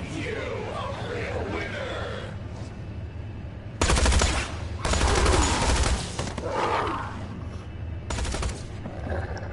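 Video game gunfire comes in loud bursts of rapid automatic shots, separated by stretches of game ambience and chatter-like background sound.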